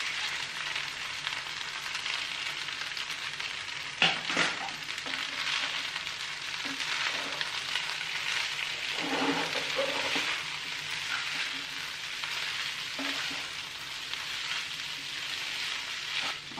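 Poha fries in a pan, giving a steady close sizzle, with occasional clinks and scrapes as it is stirred, and no voices.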